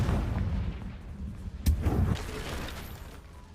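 A Confringo blasting spell explodes in a Hogwarts video game with a single sharp, loud boom and a short rumbling tail over low, steady background sound.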